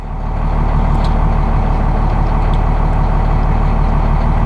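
A Massey Ferguson tractor engine idles steadily at a loud, constant level, a low diesel rumble with no speech over it.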